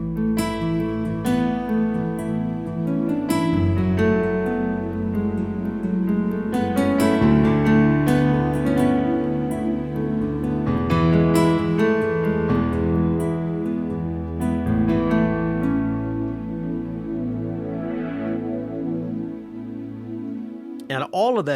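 Yamaha YC88 stage keyboard layering its CFX grand piano sound with an analog-style synth pad, playing sustained chords and melodic lines steadily and loudly for about twenty seconds with no talking.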